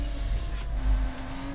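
Tires squealing through a corner in the F1 24 racing video game, a thin high whine over the steady, loud drone of the car's engine.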